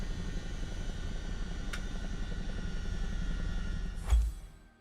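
Chinook helicopter in Microsoft Flight Simulator 2024 with its engine shutting down: a steady turbine drone and whine holds, then a brief thump and the sound fades away at the end.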